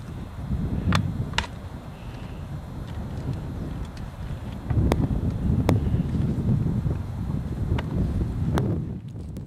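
Strong, steady wind buffets the microphone outdoors on a cold day over a rape field, a continuous low roar that surges louder midway, with a few faint clicks on top and no voices.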